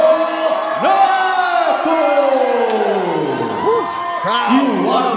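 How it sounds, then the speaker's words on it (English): A live crowd at an MMA featherweight championship event in Brazil cheers loudly and continuously as an undefeated fighter is introduced, with whoops and shouts rising over a ringside announcer's amplified voice. "Crowd going nuts for the undefeated Caneto"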